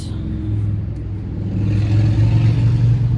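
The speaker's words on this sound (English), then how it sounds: "sorry about the motorcycle sounds in the background" Motorcycle engines rumbling past a city garden, a low steady drone that grows louder and nearer midway as one bike revs by, with no talking over it.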